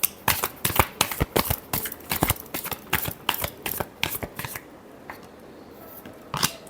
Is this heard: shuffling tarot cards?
yes